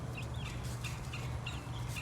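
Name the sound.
chickens clucking in their coop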